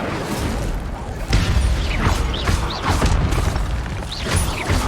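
The Incendio fire spell cast in the Hogwarts Legacy video game, a dense rushing burst of flame with booms and crackles layered over constant loud game action, with no clear talk.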